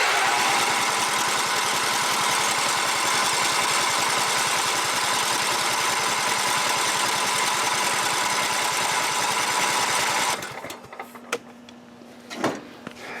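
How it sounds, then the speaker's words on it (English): A Kohler Command small engine, freshly oil-changed, runs with a steady, loud, dense drone that holds unbroken for about ten seconds, then cuts off abruptly, leaving faint clicks and a low hum. "Go ahead and motor the engine."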